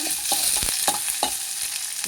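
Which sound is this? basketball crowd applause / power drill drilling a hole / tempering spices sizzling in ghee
tempering spices sizzling in ghee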